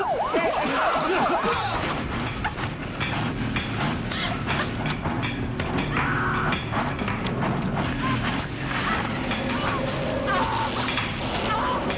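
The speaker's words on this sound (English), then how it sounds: "Emergency on that ambulance!" An ambulance siren wails in a scene from a scary movie, mixed with voices and dense background noise, rising and falling at moderate loudness.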